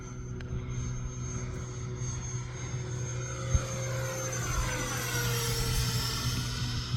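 A small jet engine whines steadily as a scratch-built Saab J35 Draken model with a 70mm electric ducted fan passes, its pitch sweeping and shifting while a low engine hum drones underneath.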